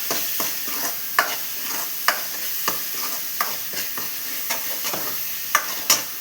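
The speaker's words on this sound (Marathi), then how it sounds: "हा चांगला मसाला परतला गेलेला आहे." A masala of fresh coconut, ginger and coriander sizzles softly in a pan for fish curry, with a spoon scraping and stirring at irregular intervals, each stroke a small sharp scrape above the steady frying hiss.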